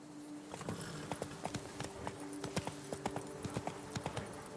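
Hooves of the horse Roach clip-clopping in The Witcher 3, a quick, regular run of sharp knocks over a low steady hum, fairly faint.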